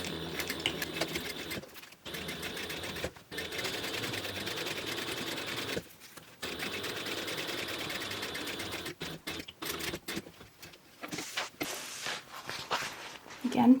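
Steady hum and rapid stitching of a sewing machine sewing book bag seams, running in long stretches with brief pauses, under a person talking throughout.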